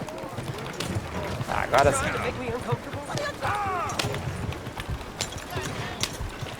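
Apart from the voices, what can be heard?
horse galloping hooves in video game Red Dead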